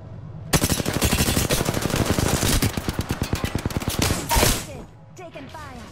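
Rapid, continuous automatic gunfire from the video game Apex Legends rattles loudly for several seconds, then breaks into a short burst and a quieter tail with scattered game effects.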